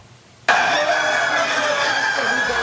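Large flock of laying hens in a University of Saskatchewan poultry research facility, a dense steady chorus of clucking and squawking that begins abruptly and carries on loud and continuous.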